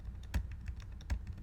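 Typing on a computer keyboard, a quick run of light key clicks with two heavier strikes, close and fairly quiet with no talking.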